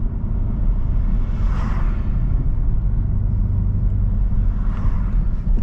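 A Chevrolet Camaro ZL1 with a six-speed manual drives at speed, giving a loud, steady engine rumble and road roar heard from inside the cabin, with no talking.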